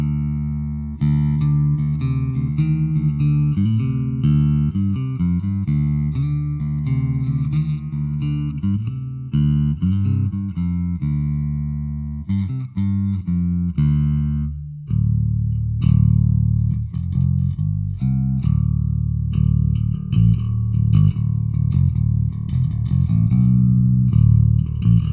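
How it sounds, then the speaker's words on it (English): A guitar runs through a JFX 12-stage phaser modelled on the Moog 12-stage unit and plays a clean, chordal passage with a subtle swirling sweep, loud and continuous, the rhythm picking up in the second half. "I've got a JFX 12-stage phaser, which is basically like a version of the Moog 12-stage phaser"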